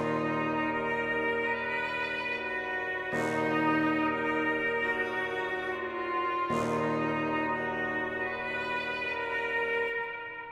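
Soft felt piano from Spitfire Audio layered with a Kontakt bassoon filling out the low end, playing sustained, ringing chords that are re-struck twice, evenly loud with no voices.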